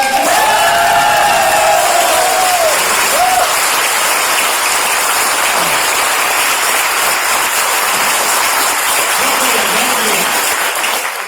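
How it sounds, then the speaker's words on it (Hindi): Loud, sustained audience applause with cheering and whoops at a business seminar hall, thick clapping filling the room for over ten seconds, with a short voice heard at the start. "जोरदार तालियों से दिखा सकते हैं।"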